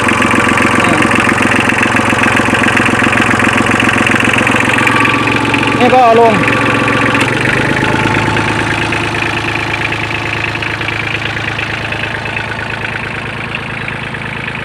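An old Kubota L2000 tractor engine, 20 horsepower and 1,100cc, runs steadily at close range with a mechanical whine and clunk from the hydraulic lift partway through, while someone talks over the loud rumble.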